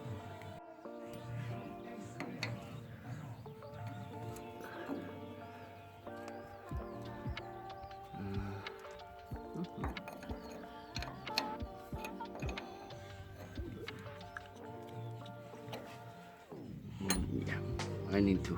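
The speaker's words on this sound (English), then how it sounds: "Take out and then undo these 3 bolts." Metal clinks and ticks from undoing bolts on the master brake cylinder of a GAZ 52 truck, irregular small taps and scrapes close by over a steady background hum.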